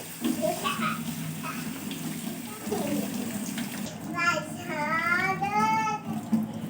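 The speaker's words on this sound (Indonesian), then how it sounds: "setelah itu kita bilas dengan air mengalir" Soapy hands are rinsed under a running tap, a steady close wash of water that carries on while someone talks over it and a voice chimes in near the end.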